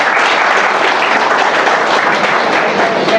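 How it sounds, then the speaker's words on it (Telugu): A crowd of teachers claps steadily and loudly, dense overlapping applause sustained from start to finish with no voices rising above it. "మీకు నచ్చితే కనుక ఓ 2 చప్పట్లు కొట్టి మీకు నచ్చిందని చెప్పమని కోరుతున్నాను"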